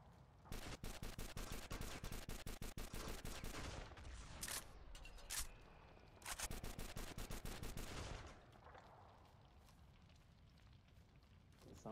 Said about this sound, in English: I'm just going to try and shoot him.